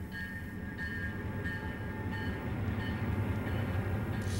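The Gulf, Mobile and Ohio passenger train Ann Rutledge crosses the Chicago River on its run to St. Louis, a steady low rumble of wheels and cars with a faint tonal whine, sustained and moderately distant, with no voices.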